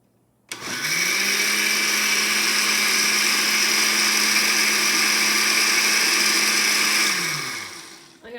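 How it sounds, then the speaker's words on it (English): Blender whirring steadily as it mixes Dutch baby pancake batter with melted butter, a loud, even motor drone that spins up, holds for several seconds, then winds down. "And I'm going to give that a blend."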